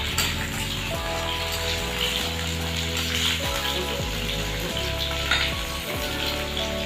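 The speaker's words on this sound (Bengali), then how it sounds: "সর্ষের তেল গরম হয়ে গেছে, পটলটি দেওয়া হয়ে গেছে, এবার পটলটিকে ভাজা হবে," Pointed gourd (potol) frying in hot mustard oil sizzles loudly and continuously, with dense crackling and occasional scraping knocks of a utensil stirring in the pan, close up and without speech.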